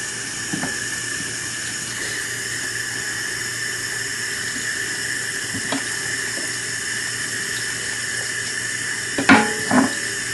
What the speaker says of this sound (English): all we're going to do is just rinse it, just to make sure we don't catch any unwanted seeds